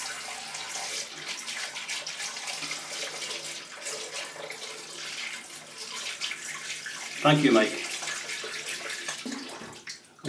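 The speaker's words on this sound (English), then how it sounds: "let me just put some water in the sink" Tap water pours steadily into a bathroom sink during a live wet shave, a continuous hiss and splash running through the whole stretch, with brief talk partway through.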